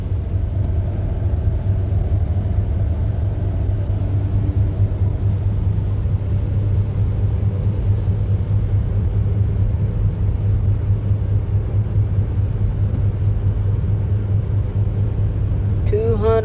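A Ford car with almost 290,000 miles, its cooling system treated with an additive, drives along with a steady low engine rumble and road noise heard from inside, continuous and even throughout.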